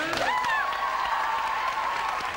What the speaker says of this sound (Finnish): Siitä seurasi asiaan kuuluvat aplodit.